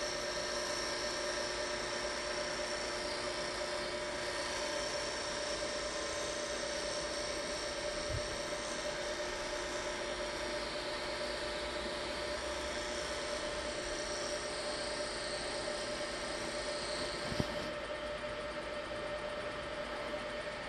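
A wood lathe runs steadily as a square carbide tool trims a wooden memorial ring on a mandrel down level with its core, giving a continuous loud whirring hum with a thin tonal whine, with no speech.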